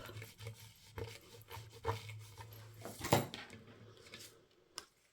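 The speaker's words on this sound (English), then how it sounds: "Let's just give this a rub." Someone rubs over a stamped craft piece, making dry, rasping strokes that repeat at an uneven pace, close and fairly faint, with a sharper scrape near the middle.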